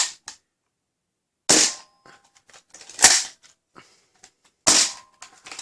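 Nerf Rival Flex XXI-100 foam blaster firing during a chronograph test, three sharp, snappy shots spaced about one and a half seconds apart, with small clicks and handling rattles between them in a quiet room.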